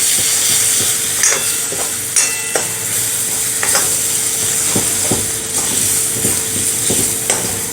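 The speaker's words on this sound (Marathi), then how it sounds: "आता यामध्ये घालूयात सुकं खोबरं मिक्सरवर थोडंसं बारीक करून घेतलेलं आहे तर हे व्यवस्थित मिक्स करून घेऊया" Ground dry coconut and masala frying in a pan, stirred steadily with repeated scraping strokes over a continuous close, loud sizzle, with no talking.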